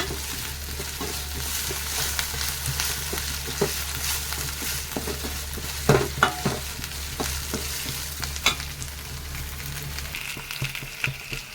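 Fish fries in oil with a steady sizzle, broken by occasional clicks and scrapes of stirring.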